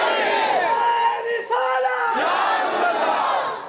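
A large crowd chants a religious slogan in unison, a roaring collective shout that swells, briefly dips, then surges again, loud and sustained.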